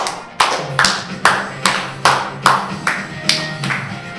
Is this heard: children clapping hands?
yes